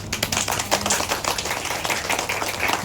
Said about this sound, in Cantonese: 我哋再俾次掌聲導演